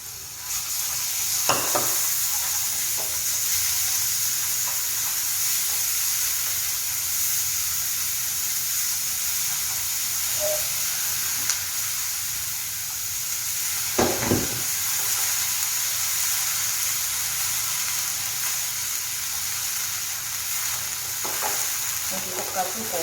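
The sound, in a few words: meat stir-frying in cooking oil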